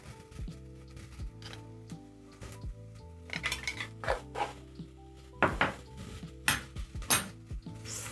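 A spoon stirs dried oregano and thyme into butternut soup in a pot, giving intermittent metallic clinks and scrapes against the pot, with louder clusters of knocks toward the end and no talking.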